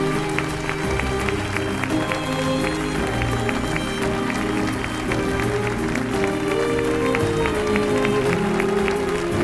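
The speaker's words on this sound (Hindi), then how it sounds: "लोग खड़े होकर तालियां बजा रहे हैं।" A seated audience rises and applauds at a ceremony in a Turkish drama. Steady, dense clapping runs throughout, mixed with a prominent musical score.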